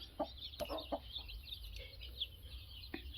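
A Tamil Nadu lineage country hen on a poultry farm clucks in short, irregular bursts, soft and fairly close, with faint bird chirps in the background and no talking.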